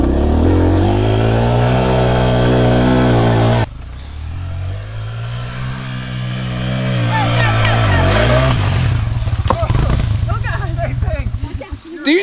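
A Kawasaki KLX140 dirt bike engine revs hard as the rider dumps the clutch and takes off, loud and close, with the pitch climbing and falling through several surges over about twelve seconds.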